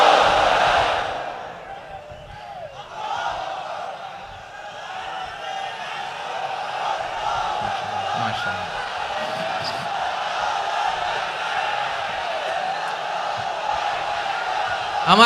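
A large crowd at an Islamic religious sermon chants takbir in unison, a loud sustained roar of many voices rising at the start and continuing as a steady massed wash throughout.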